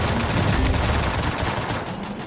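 Gunfire in the Free Fire battle royale game crackles as a dense, continuous burst of rapid shots, loud and unbroken before tapering slightly at the end.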